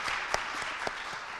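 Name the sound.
applause, clapping at rally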